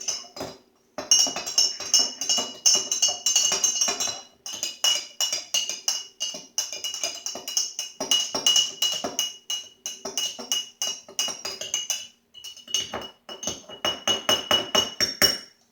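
A spoon stirs a borax mixture in a glass container, giving bright, rapid clinks in quick rhythmic bursts with brief pauses, close and fairly loud.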